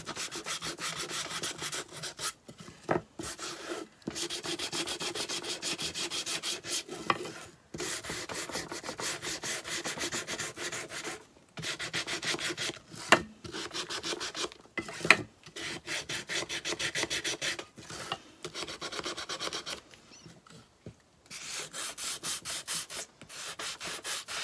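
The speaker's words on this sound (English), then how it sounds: "I'm just going to take my little finger sander here and do some distressing" A small finger sander distresses wood coated with about ten layers of paint, giving a continuous raspy grinding buzz that stops briefly and restarts several times over the stretch.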